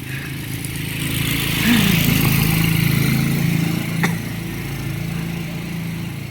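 A small motorcycle engine runs with a steady mid-pitched drone, swelling slightly as it revs, heard close and continuous throughout.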